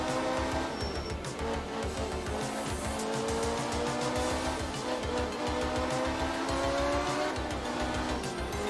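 A Stratos rally car in Art of Rally roars along at speed with a steady, loud engine drone, shifting pitch as it brakes hard and slides with tyre squeal, no voices.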